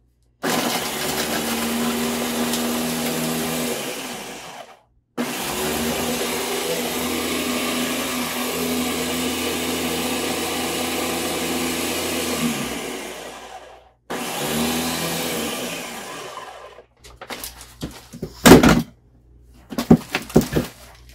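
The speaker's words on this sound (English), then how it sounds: "so it's in my Ninja blender now." A Ninja blender blending pumpkin runs with a loud, steady motorized whirring in long stretches with brief pauses, then stops, followed by a few clattering knocks near the end.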